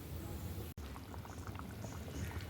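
A pan of sardine fish curry with tomato, green chilli and curry leaves bubbles softly at a steady boil, a faint close simmering with a brief break near the start.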